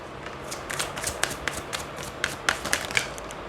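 Tarot cards being shuffled by hand during a reading, a quick run of soft riffling taps and slaps that sharpen into a few crisp louder snaps toward the end, with no talk over them.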